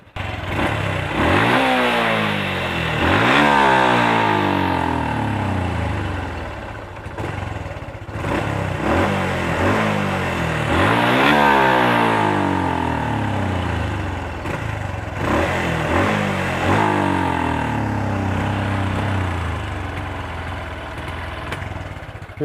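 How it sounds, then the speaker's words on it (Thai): A stock Honda Wave 110i motorcycle engine revs repeatedly, climbing in pitch and falling back to idle in several rising sweeps, with a fault that stops it from reaching full throttle; the sound is loud and close, with no talking. "ทีนี้เราจะลองเร่งกันดูก่อน"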